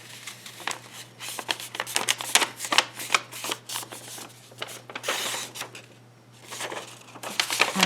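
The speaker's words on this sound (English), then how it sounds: "I'm going to fold it in half." A torn-off sheet of paper is handled and folded in half, a run of crisp crinkling rustles and sharp creasing swipes, close and fairly loud, in bursts with short quiet gaps.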